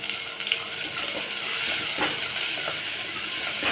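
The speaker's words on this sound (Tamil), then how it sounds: "சின்ன வெங்காயம் வதங்கட்டும்." Shallots sautéing in hot oil with garlic and curry leaves for a Tamil sundakkai kulambu, a steady close sizzle and hiss with a few small pops, no talking.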